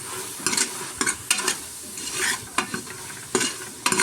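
Sambar powder being mixed into greens in a hot pan: a spoon scrapes and knocks against the pan in quick irregular strokes over a low sizzle, close up with no voices.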